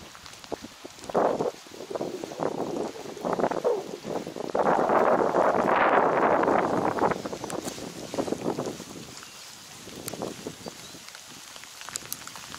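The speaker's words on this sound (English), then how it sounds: "I'm trying to figure out like what angle is the least getting hit by the wind" Gusty wind buffets the microphone outdoors on a boat passage toward Ponta Delgada, with rumbling bursts that swell into a sustained roar mid-way before easing back to intermittent gusts.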